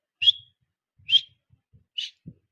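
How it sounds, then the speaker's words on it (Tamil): Three short, sharp whistle blasts at a Karuppasamy temple in Puliyarai, Tenkasi district, evenly spaced and fairly close, with faint low thumps in between. "அந்த விசில் சத்தம்"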